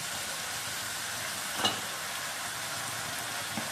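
Brinjal sizzling and frying in a pan with sautéed tomatoes, a steady close hiss throughout with a brief stir clink midway.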